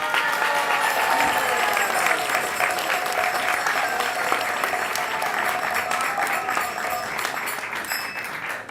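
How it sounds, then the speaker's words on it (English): A sizable audience at a Sunday feast program claps together in a sustained, steady burst that holds for several seconds, with a faint voice or two blending into the crowd noise. "go ahead, you can clap your hands"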